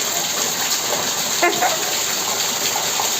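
Falling water gushes in a steady, dense roar, with a faint voice briefly audible beneath it.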